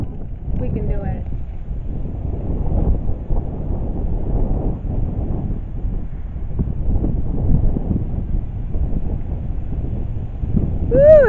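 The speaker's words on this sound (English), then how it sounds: "is it windy? It's nice." Strong wind outdoors buffets the microphone in a continuous low rumble, with a brief voice rising near the end.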